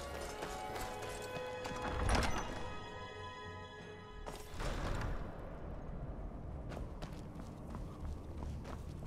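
Horse hooves clip-clopping in the video game Skyrim, an uneven run of close hoof knocks set against game music and ambience, with a brief neigh-like sound.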